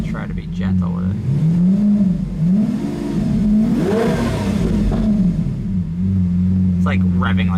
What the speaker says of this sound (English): Like revving like it's in neutral.